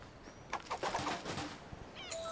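A pigeon in the video game Alba: A Wildlife Adventure coos in a soft run of repeated low notes, with a brief flutter near the end against quiet game ambience.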